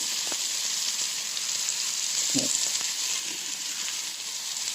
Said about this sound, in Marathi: आता हे भाजून घेते कांदा